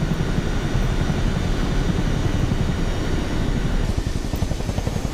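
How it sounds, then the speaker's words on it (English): A Chinook helicopter in a video game drones steadily with a continuous rotor and engine roar, loud and close throughout, easing slightly toward the end. "Because it's a helicopter, I can land anywhere with precision."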